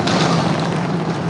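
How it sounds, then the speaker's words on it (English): Sonic boom from a SpaceX Starship Super Heavy booster descending toward its landing, heard as a loud, broad rumbling blast that holds steady through the short stretch with no talk. "And we just heard the sonic boom."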